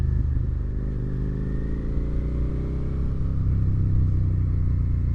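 A 2017 Suzuki SV650 motorcycle engine drones steadily while riding, a close, loud low rumble with slight shifts in pitch as gears change, and no speech over it.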